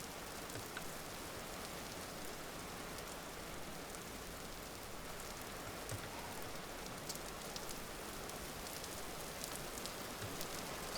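Steady rain falling in a rainy biome in the video game Vintage Story, a constant close hiss of dense raindrops on surfaces with no voices and no change in level.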